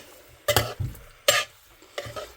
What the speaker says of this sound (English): Just brown it off like you would do with beef.